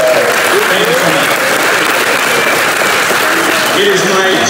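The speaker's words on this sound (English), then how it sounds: "Big round of applause for yourself." Keynote audience at the Hall of Flowers event breaking into sustained, dense applause, loud and continuous throughout with a crowd murmur beneath.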